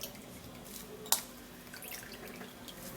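A single clear drip of potato juice falls from pressed grated potato, a sharp little splash in an otherwise quiet room with faint background hiss.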